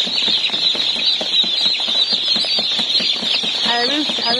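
Chickens cluck and chirp in a busy cluster at a poultry seller's, close and continuous with many overlapping calls, while faint talk sits in the background.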